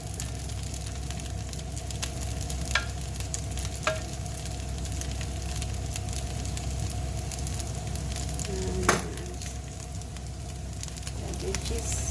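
Vegetables fry steadily in a pan with a constant close sizzle, as a utensil gives occasional faint scrapes and clicks while they are turned.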